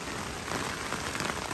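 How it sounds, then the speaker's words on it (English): Steady rain patters on an inflatable tent at a campsite, a dense, continuous hiss of drops striking the fabric close by, with no voices. "I mean, it's raining pretty good, but it's not raining all that bad."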